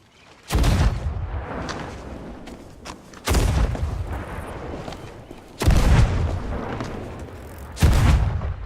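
Heavy ship cannons boom in a pirate video game, four loud blasts spaced a few seconds apart, each a sharp broadband crack followed by a rumbling decay, with no talking.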